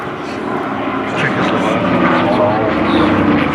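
WWII propeller warplanes, Hurricanes and Spitfires, flying over an air force base airshow in South Australia: a steady, loud engine roar builds and holds throughout, with voices heard over it.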